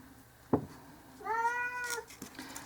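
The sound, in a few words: cat meowing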